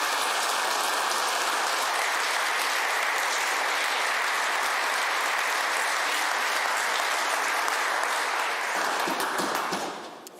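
Sustained applause fills a legislative assembly chamber as members welcome a guest in the gallery, a steady dense clapping that holds loud and even for about nine seconds before tapering off at the end.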